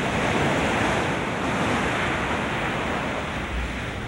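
Ocean waves and surf at a rocky shore during a fishing boat rescue, with a dense, steady roar of breaking water that fills the whole stretch and gusts of wind buffeting the microphone.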